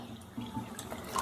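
A cup of water is poured onto sugar in a saucepan for jalebi syrup, producing a brief, soft splashing trickle lasting just over a second.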